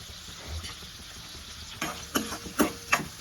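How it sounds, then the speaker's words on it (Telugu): Chopped onions frying in oil for a rasam tempering give a soft sizzle, with a few sharp stirring scrapes and clicks toward the end, close and moderately loud. "బాగా వేయించుకోవాలా"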